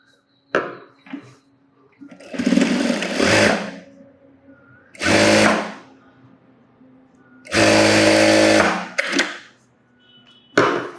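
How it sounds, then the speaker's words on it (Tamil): A sewing machine stitches hook and eye strips onto a large blouse, running in several loud bursts of about one to two seconds each, with short pauses and faint handling clicks between runs. "இப்போ ஊக்பட்டி ஐப்பட்டி தைக்கிறேன்"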